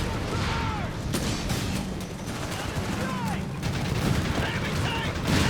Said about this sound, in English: gun letting loose